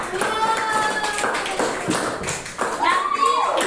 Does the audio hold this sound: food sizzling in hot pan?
no